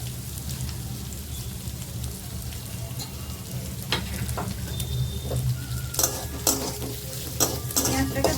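Chopped onions frying in a pan, a steady close sizzle with intermittent spoon scrapes and clinks against the metal that grow more frequent later on; no voices.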